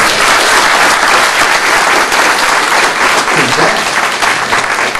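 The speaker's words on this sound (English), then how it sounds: "Let's just give them a round of applause." Loud, sustained audience applause filling the room at a college talk, dense clapping continuing steadily for the whole stretch before easing slightly near the end.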